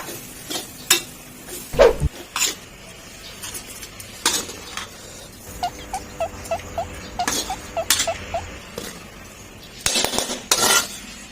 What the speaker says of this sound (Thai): เดี๋ยวตักใส่ใส่ถาดเลยเตรียมถาดแล้วไป